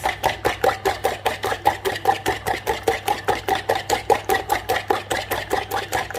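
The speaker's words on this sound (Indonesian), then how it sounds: "aku kocok telur sekitar 5 butir ya" About five eggs whisked by hand in a bowl, heard as a steady, rapid run of crisp strokes at roughly four per second, close and even throughout with no talking.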